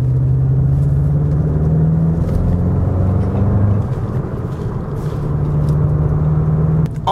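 A 2024 Volkswagen GLI Autobahn sports sedan with a manual gearbox drives along a back road, its engine droning with a steady low rumble and road noise heard from inside the cabin.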